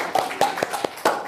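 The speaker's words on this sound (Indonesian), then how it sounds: "tepuk tangan dulu dong untuk 10 kanopus" Students in a classroom clap for their class, a short burst of several sharp hand claps, close and fairly loud, with no talk over it.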